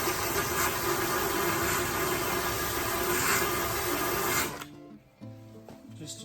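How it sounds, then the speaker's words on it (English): An electric drill fitted with a stripping wheel grinds paint and primer off the body of a 1966 Mustang, giving a loud, continuous abrasive whir for about four seconds before it cuts off, leaving faint clatter and handling noises. "So I just use my drill and one of these wheels and get after it."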